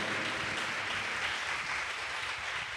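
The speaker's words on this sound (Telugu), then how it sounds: "గట్టిగా చప్పట్లు కొడదామా?" A church congregation claps loudly and continuously, forming a dense, even wash of applause that fills the whole moment.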